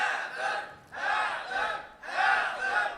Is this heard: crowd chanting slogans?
yes